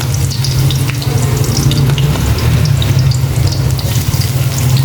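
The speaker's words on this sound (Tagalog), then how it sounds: "ilalagay na natin ang ating sibuyas" Onions sizzle in a hot pan for Filipino pork kaldereta, a loud, continuous close-up frying hiss with a steady low hum underneath.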